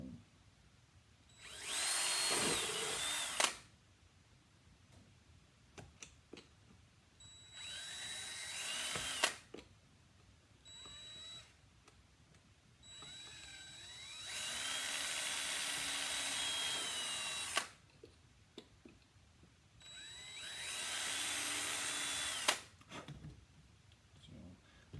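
A power drill bores screw holes in a hockey boot while a figure skating blade is being mounted. There are four loud, sustained whirring bursts of a few seconds each, separated by quieter handling noises and pauses.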